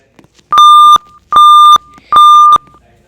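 An Edwards fire alarm sounds a code 3 temporal pattern: three loud, identical, evenly spaced electronic beeps, each about half a second long, close and alone.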